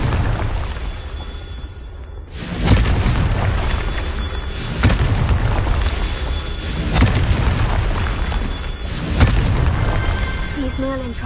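Fire and blast spells (Confringo, Incendio) go off in the video game Hogwarts Legacy, loud booming bursts repeating every couple of seconds over a continuous rumbling roar, with a voice shouting spell names.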